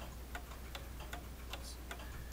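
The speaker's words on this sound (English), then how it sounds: "it's ideal for the clock to have a nice even tick anyway" A pendulum mantel clock ticks with an even, steady rhythm, soft and close over a low background hum.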